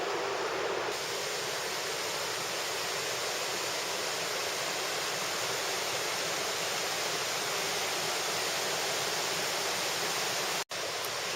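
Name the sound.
Wildcat Creek flowing water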